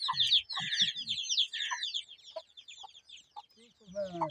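Desi hens and their chicks in a village setting, with bright high chick peeps and cheeps running throughout and a few low clucks from the mother hen close by, ending with a brief louder call.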